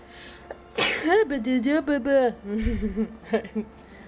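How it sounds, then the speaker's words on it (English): A loud, close sneeze bursts out abruptly from a person playing The Legend of Zelda: Tears of the Kingdom, followed by voiced, laughing speech with game audio faint underneath. "I was making a joke and then I sneezed right through it."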